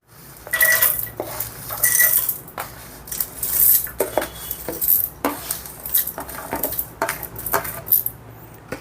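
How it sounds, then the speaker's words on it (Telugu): Roasted spices for a bitter gourd spice powder are tipped into a mixer jar, making repeated clinks, taps and scraping rattles of utensils against the jar in irregular bursts, close and clear, with no talking. "ఇప్పుడు ఒక మిక్సీ జార్ తీసుకొని ఈ వేపుకున్న దినుసులన్నీ వేసుకుందాం"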